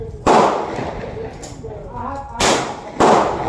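An 1887-made Italian Vetterli rifle chambered in 6.5 Carcano fires outdoors, giving loud, sharp, close blasts at separate moments, each trailing off in a rumbling decay.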